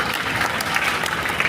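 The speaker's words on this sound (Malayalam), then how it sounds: "അതോടൊപ്പം തന്നെ കൈയടിച്ചോ" An audience at a student assembly at St Joseph's College, Pilathara, claps for MLA Vijin, a brief burst of dense, even applause from a crowd in a hall.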